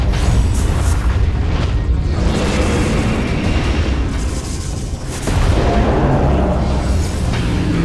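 Repeated booming explosions from bombs set off at a boss's feet in Metroid Prime 3, with a continuous loud rumbling roar that swells and dips across the stretch, with no voices.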